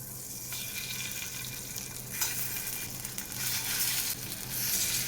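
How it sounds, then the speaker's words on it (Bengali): Pieces of chicken for biryani frying in butter in a pan, a continuous crackling sizzle up close that grows louder and brighter partway through, with no talk. "থার্টি সেকেন্ডসের মতো ভাজবো দিয়ে তুলে নেবো"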